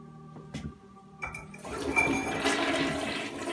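A Gerber toilet flushes with a sharp clack of the handle, then a loud rushing swirl of water that builds and keeps churning, preceded by a few light clinks.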